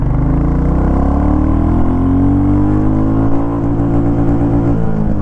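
A 2024 Royal Enfield Classic 350 accelerates hard in first gear, its single-cylinder engine loud and close, the thumping note climbing steadily in pitch before easing off near the end.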